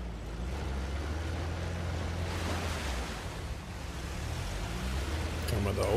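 Waterfall in the video game Uncharted: The Lost Legacy, a steady broadband rush of falling water that swells slightly, with a faint voice briefly underneath.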